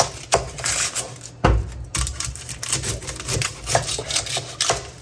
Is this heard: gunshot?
no